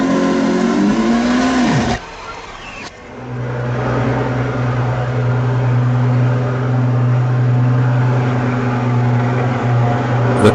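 A Lamborghini Aventador V12 with quad exhaust pipes idles after a cold start, a loud steady drone that dips briefly, then settles back into a continuous deep rumble.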